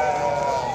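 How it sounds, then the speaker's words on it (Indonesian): A male kacang goat bleats at a busy livestock market in Jonggol, Bogor, one sustained wavering cry close by over a noisy crowd. "Nah, ini bagus kambing jantan, kambing kacang ya."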